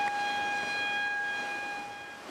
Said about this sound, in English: every time they have increased it, they started with a warning siren.